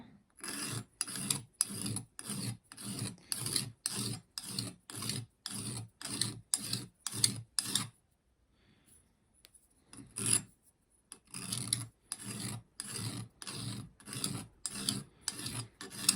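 An old rusty hand file rasping against metal, a run of regular back-and-forth strokes close up, then a short pause with a few scrapes before the steady stroking resumes, no voices.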